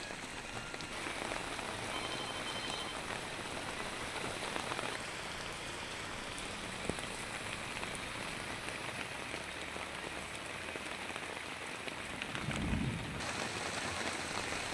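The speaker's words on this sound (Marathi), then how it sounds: "नवी मुंबईतही मुसळधार पाऊस बरसलाय" Heavy monsoon rain pours down in Navi Mumbai, a dense, steady hiss of drops drumming on surfaces with no voices, continuing unbroken with a faint low thump near the end.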